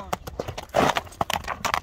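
A horse eager to run stamps its hooves in a short, uneven clatter close by, mixed with people talking.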